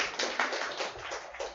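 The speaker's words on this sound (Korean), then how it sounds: "박수 한번 줄게요" Listeners at a science lecture in a public library clap briefly, giving a faint, uneven patter of hands with a few sharper taps.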